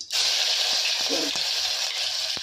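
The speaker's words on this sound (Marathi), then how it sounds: "हे आपण आत्ता फ्राय करत आहोत" Green chili, garlic and cumin paste frying in hot oil, a loud steady sizzle with a few faint stirring knocks, no voices.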